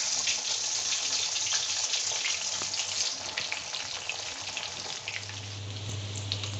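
Mutton chops frying gently in a pan over a low flame, a steady hiss of sizzling fat with faint crackles and a low hum rising near the end; no voices.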